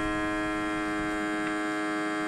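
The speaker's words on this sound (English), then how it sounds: "Vacuum and seal." A vacuum sealer pumps air out of a bag holding skipjack fish, giving a steady, even motor hum that runs unchanged throughout, close and moderately loud, with no voices.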